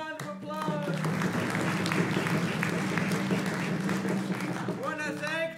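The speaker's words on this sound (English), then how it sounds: "I want to give them a round of applause." Sustained applause from a crowd at the Syeyutsus Celebration in thanks to the servers, many hands clapping continuously, with voices briefly audible at the start and end.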